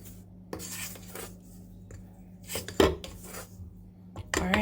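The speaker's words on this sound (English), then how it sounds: "I'm just gonna mix this around just to make sure that everything is nicely incorporated, and I'm doing so with my wooden spoon" A wooden spoon stirs bun ingredients in a bowl, making intermittent scraping and knocking strokes against the bowl, close and fairly quiet over a low steady hum.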